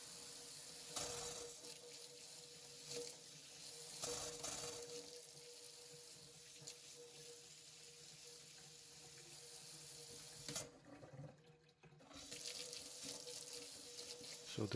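Water runs steadily from a newly installed kitchen faucet into the sink, a continuous close hiss that briefly drops away near the end before resuming.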